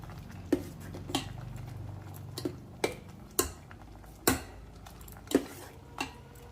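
A spoon knocking against a pot while chili powder and salt are mixed into tomato dal, a string of sharp, spaced clinks over a faint low hum, close and fairly quiet.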